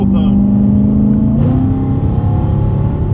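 A BMW E92 M3 engine revs loudly up close, a strong sustained roar that steps up in pitch midway and then holds steady.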